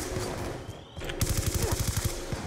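Rapid bursts of automatic gunfire in Call of Duty Black Ops II, a quick run of sharp, evenly spaced shots kicking in after a short lull and carrying on to the end over a busy game background.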